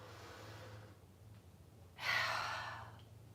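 A single long exhale pushed out through the mouth during a gentle yoga-style breathing flow, a soft breathy rush that swells quickly and fades over about a second against a quiet room hum.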